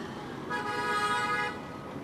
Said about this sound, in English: Traffic in the Philippines is shit.